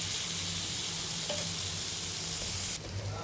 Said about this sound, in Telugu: ఇదిగండి పెనం మీద ఇలా వేసి ఇట్లా చేప ముక్కలు ఎట్లా ఫ్రై చేస్తాం అలా చేయాలండి